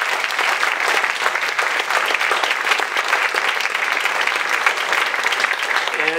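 Crowd at a library grand opening clapping steadily for library staff, a sustained, moderately distant round of applause with no speech over it.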